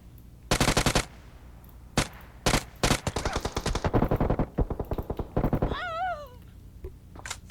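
Gunfire in a first-person shooter match with WoW, UMP and M4 guns, loud rapid automatic bursts fired in quick succession, followed by a brief wavering electronic whine.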